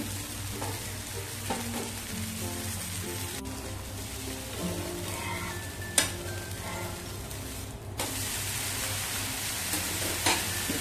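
A dosa roasting on a hot tava griddle gives a steady soft sizzle with faint crackles, a couple of brief clinks and a short quieter dip midway.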